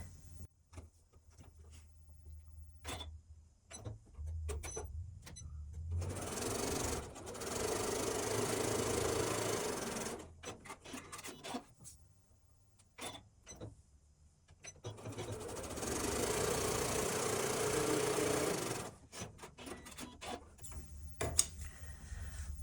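Domestic sewing machine stitching quilt fabric a quarter inch beside a drawn diagonal line on a half-square triangle, running in two sustained bursts of steady whirring with quiet handling clicks between.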